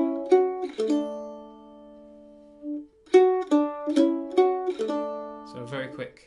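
A mandolin plays the closing notes of Cumberland Gap: a few picked notes, a short pause, then a quick run of bright plucked notes, close and clear.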